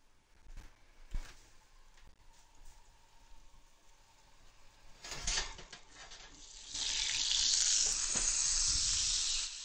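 Grilled chicken sizzles and fries in a hot pan while cooking a Catalan chicory salad, the crackle swelling into a loud, steady hiss in the second half after a few handling clatters.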